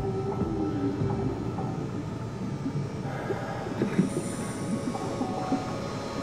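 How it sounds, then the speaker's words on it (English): A shuttle train rumbling in the underwater sci-fi game SOMA, a steady low mechanical drone with faint clanks and hums, continuous and fairly loud without speech. "Wait, that's the shuttle train?"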